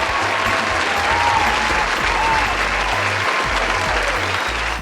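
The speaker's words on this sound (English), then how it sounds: "Give that boy a round of applause." Steady applause from an audience, broad and sustained clapping filling the whole moment with a dense wash of hands, close and fairly loud, with no voices standing out.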